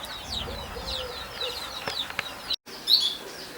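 Canaries chirp in an aviary with repeated quick, high tweets scattered throughout, fairly close, with a brief silent gap near the end.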